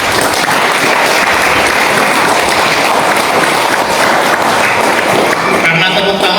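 Audience applause at an anniversary gathering: dense, loud, continuous clapping from a crowd that holds steady throughout, thinning out at the very end.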